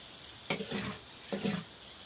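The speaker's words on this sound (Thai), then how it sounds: "ผัดให้มันเข้ากันกับหมูของเขาเลยครับ" Egg stir-fried with pork belly in a wok for pad see ew, with two bursts of a metal spatula scraping the wok and hot sizzling between them, close and moderately loud with no talk.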